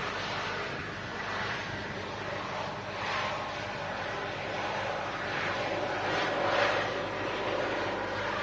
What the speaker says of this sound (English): we have this Transat A321neo. Just landed here on 23 right at Manchester.